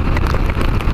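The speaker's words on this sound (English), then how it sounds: "That's big fat rain too." Heavy rain in Nashville, big fat drops pattering densely and loudly on a nearby surface during a motorcycle ride, a constant close drumming with a low rumble underneath.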